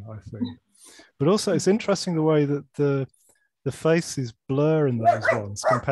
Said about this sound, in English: That's my dog's there barking.